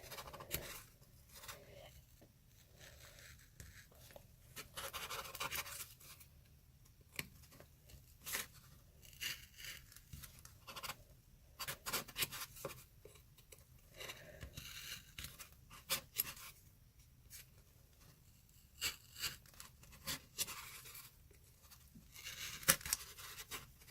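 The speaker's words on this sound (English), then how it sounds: "keep it poking and take it out until I cut all the way through the middle circle" Cardboard being poked and cut through around a middle circle for a wreath ornament, a quiet run of irregular scratchy tearing and snipping bursts that keeps coming and going.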